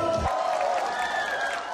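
Crowd at an outdoor festival stage in Chungju applauds and cheers steadily as a veteran enka singer appears, a broad, continuous roar of clapping and shouts heard up close with a faint sustained musical tone beneath.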